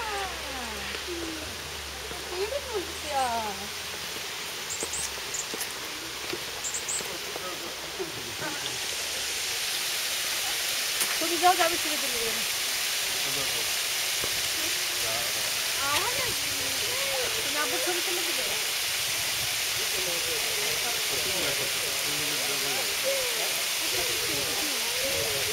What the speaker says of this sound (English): the noise of gushing water.